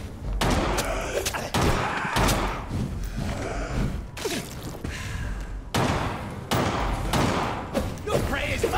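Gunshots and heavy impacts in the video game Vampyr, several sharp loud bangs spaced irregularly amid combat thuds and game sounds, with brief talk around them.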